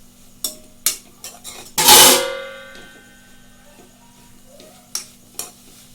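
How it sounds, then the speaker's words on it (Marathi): A metal spoon stirs a wild leafy vegetable with grated dried coconut in a pan, giving a few sharp scrapes and clanks and one longer loud scraping stir, then quiet gaps with soft taps. "सुकं खोबरं मी बारीक पीस करून घेतलेलं आहे त्याचा आणि हे पूर्ण आपण मिक्स करून घेतलं"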